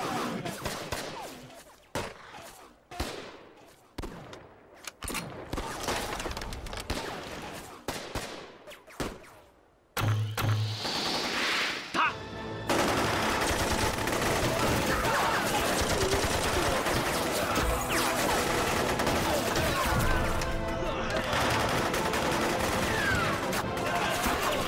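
Battle scene in a Chinese war film set during the war against Japan: bursts of gunfire crack out with short gaps, then a sustained machine-gun barrage roars continuously and loudly for the rest of the stretch, with no talk.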